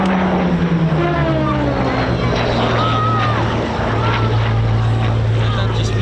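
A Spitfire propeller fighter performs a victory roll at the Old Buckenham airshow, its engine a loud, continuous droning roar that shifts pitch as it passes. A commentator talks over it.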